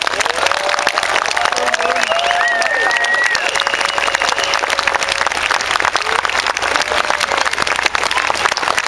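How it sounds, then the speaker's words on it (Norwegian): A live concert audience gives warm, sustained applause for a singer performing with a naval military band, a dense, continuous wash of clapping with some cheering throughout. "hvis du kan gi han en veldig, veldig varm applaus"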